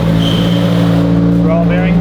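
Subaru WRX with a fully built IAG engine, upgraded turbo and heads, idling loudly on its first start, a steady close rumble throughout.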